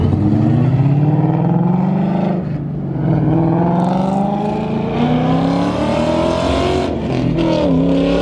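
A drift car revs hard while sliding around a street spot near a police stop, its engine note rising and falling loudly in long sweeping surges.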